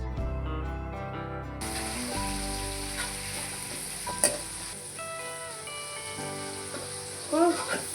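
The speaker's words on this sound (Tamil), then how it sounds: "பெரிய வெங்காயம் ஒரு 2 கட் பண்ணி வச்சுருக்கேன், அதை போட்டுருக்கேன்." Large onions, cut in two, drop into hot oil in a pot for a Tamil lentil-ball kuzhambu, giving a steady sizzle and crackle with a few sharp clinks of a utensil, with no voices.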